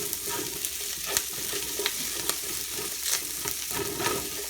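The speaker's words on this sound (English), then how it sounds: "it's already getting hot and the sugars are burning at the bottom from the onions" Pork brisket fat and onions sizzle steadily while rendering in a hot pot, a dense close frying hiss broken by a few stirring scrapes.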